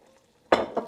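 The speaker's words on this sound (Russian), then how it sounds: "Добавлю соль, перемешаем." A brief scrape of a utensil stirring salted soup in a pan, two quick swishes close by after a moment of quiet.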